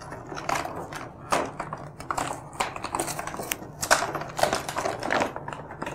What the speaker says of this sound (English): So now, kids, I'm going to unwrap the entire set.